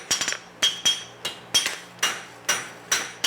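A blacksmith forging a knife by hand strikes hot metal with a hammer in a steady rhythm, sharp ringing metallic blows about three per second, close and loud, some with quick light double taps between strikes.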